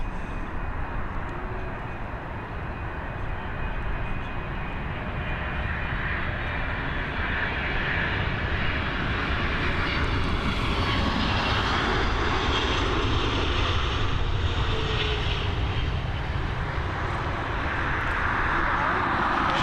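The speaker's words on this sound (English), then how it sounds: "What an absolute beauty of an aircraft this 777 is." A Boeing 777 landing at Dublin Airport, a steady, powerful jet engine roar with a broad rushing hiss that swells gradually as the aircraft passes, heard continuously with no break.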